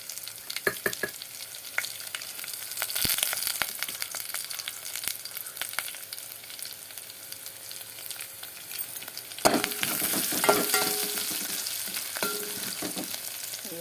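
Fenugreek, mustard seeds, cumin and dried chillies fry in hot oil, a steady close sizzle with scattered pops and crackles and a louder burst of spattering partway through, with no talking.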